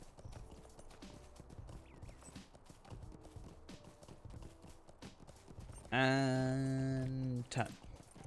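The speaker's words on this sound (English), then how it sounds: "So slow, these horses." Horse hooves clip-clop steadily in the online role-playing game The Lord of the Rings Online, a continuous rhythmic trot that runs throughout, briefly joined near the end by a loud, drawn-out horse whinny.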